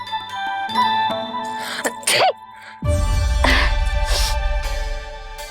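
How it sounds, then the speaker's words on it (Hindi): A child sneezes sharply once, close by, with a tinkling, ringing tone running underneath in a farm-field setting. "अभी छींक आई ना"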